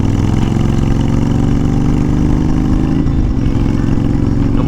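Honda Fury motorcycle engine running steadily, a loud continuous low rumble with a slight dip in pitch midway, as if throttle eases off; no voices over it.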